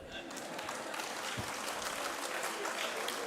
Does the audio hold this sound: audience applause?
yes